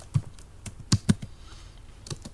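Typing on a computer keyboard while writing Python code, a quick irregular series of close, crisp key taps with a few louder strikes, heard alone without speech.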